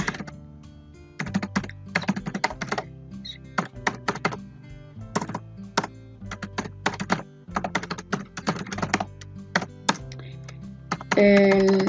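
Computer keyboard typing in bursts of quick clicky keystrokes separated by short pauses, close and clear, with a louder clatter of keys at the very end.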